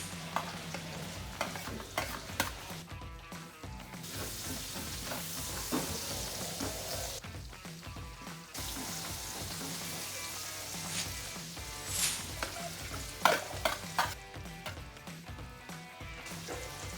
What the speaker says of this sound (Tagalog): using the same pan with few remaining oil, let's saute or chop garlic, chopped ginger, and chopped onions